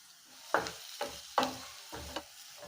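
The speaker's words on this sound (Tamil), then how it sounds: "நம்ம கோஸ் போட்டு வதக்கிக்கலாம்." Onion, green chili and cabbage sauté in oil with salt for an egg samosa filling. Four distinct scraping stirs land close by, each followed by a short soft sizzle, with quiet gaps between.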